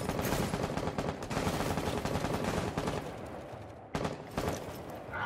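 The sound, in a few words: gunfire in the video game Rainbow Six Siege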